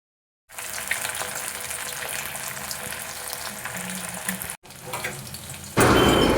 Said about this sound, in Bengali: তেলটা খুব ভালো মতো গরম হয়ে গেছে এবারে এক এক করে মাছগুলো ভেজে নেবো